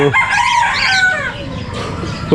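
A rooster among gamefowl crows loudly and close, a single long cock-a-doodle-doo with clucking fowl around it.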